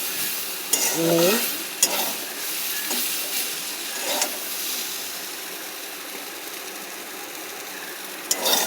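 Kolmi shak, water spinach, sizzles and fries in a pan while being stirred, with scraping strokes near the start and a steady hiss underneath, plus a few sharp clanks later on and a brief voice early.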